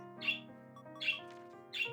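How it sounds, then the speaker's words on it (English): Excited birds give three sharp squawks at roughly even intervals, with chirps in between, set over a steady hum of background music. "Birds are extremely excited, by the way."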